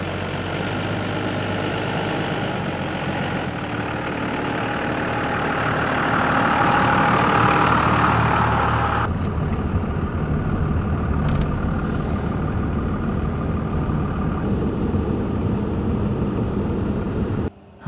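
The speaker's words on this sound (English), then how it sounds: "if you can hear my truck in the background" Older diesel pickup truck engine idling loudly and steadily nearby, a continuous low rumble that shifts and grows slightly rougher partway through, with no talk over it.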